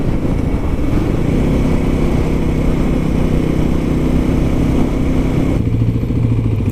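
A Kawasaki KLX300sm motorcycle runs through its stock exhaust with a loud, close, low putt-putt thump that holds steady throughout, with no voices over it.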